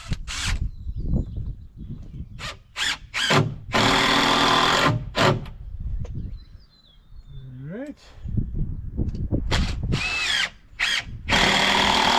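Power drill driving screws into the wooden framing of a run-in shelter, loud repeated bursts of whirring, some short and some sustained, with brief pauses between. Someone speaks between the bursts, and birds chirp faintly in the background.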